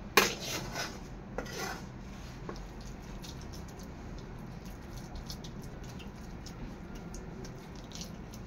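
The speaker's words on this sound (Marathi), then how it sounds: "ताटामध्ये टाकते सर्व मिश्रण" Coconut burfi mixture is poured and scraped from a pan into a ghee-greased plate, with light metallic clinks and scrapes of utensil against the plate, clearest at the start and then softer and sparse under a steady background hiss.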